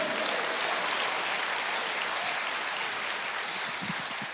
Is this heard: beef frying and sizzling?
no